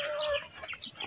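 Rooster on a small Filipino farm plot gives a short crowing burst, brief and moderately near, with faint bird chirps in the background.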